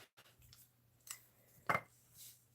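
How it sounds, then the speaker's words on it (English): Scissors snip Petal Pink ribbon during a paper-craft project: a few quiet, brief cutting snips, the sharpest one near the middle, over a low steady hum in an otherwise quiet room. "And I'm going to cut a piece."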